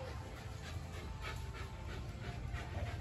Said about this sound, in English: With the Infanta doggies.